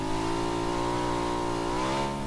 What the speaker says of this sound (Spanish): Pero esa moto se vino para acá